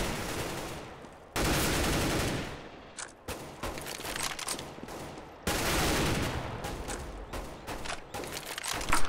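Rapid gunfire bursts in a Counter-Strike: Global Offensive match on de_Inferno, loud sustained volleys separated by brief quieter gaps with scattered single shots.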